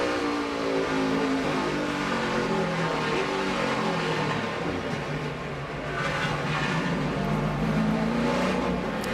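NASCAR race car engine heard on pit road in the 2010 AAA 400, a loud steady roar with layered engine tones that dip slightly and rise again, close and continuous throughout.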